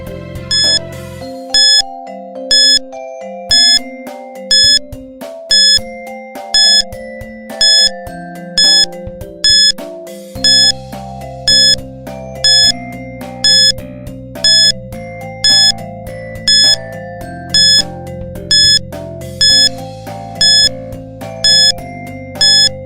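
A one-minute quiz timer plays a looping electronic tune with a bright chime at regular beats, steady and loud throughout with no speech.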